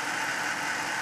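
Steady, even engine hum from a 2007 Dodge Charger Daytona with a stock 5.7-litre V8 Hemi idling, close and continuous with no talk over it.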